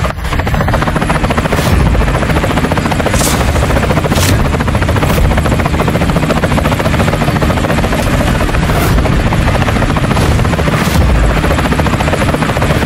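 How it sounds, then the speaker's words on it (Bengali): A costly helicopter roars loud and close, its rotor thumping and engine droning continuously throughout. "আরে, ওটা তো কোটি টাকার হেলিকপ্টার।"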